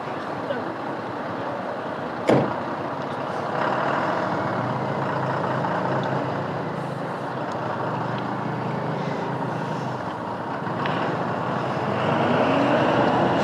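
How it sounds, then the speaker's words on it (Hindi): Army trucks idle and creep along a mountain road between Shimla and Karcham near a landslide, a steady engine rumble with one sharp knock early on and the motor noise swelling slightly toward the end. "काफ़ी ज़्यादा गाड़ी हैं आर्मी की।"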